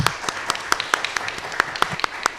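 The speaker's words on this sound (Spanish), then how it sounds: "damos un aplauso" A small audience at a carnival-studies conference panel claps: a brief, moderately close patter of individual hand claps, fairly sparse rather than a dense roar, lasting a couple of seconds.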